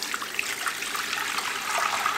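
Water poured into a pressure cooker fitted with a rack while pickling spices and garlic go in for homemade corned beef, a steady splashing hiss running without pause through the whole stretch.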